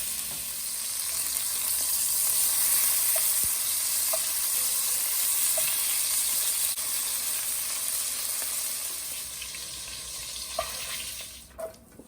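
Ground meat browns in a crowded-free frying pan for Bolognese, giving a steady, close sizzle and crackle with faint stirring clicks throughout, no voices.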